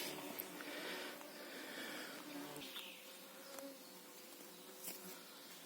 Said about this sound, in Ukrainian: Комаріці не дають спокою.